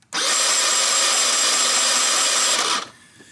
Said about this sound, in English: push the starter, it should spark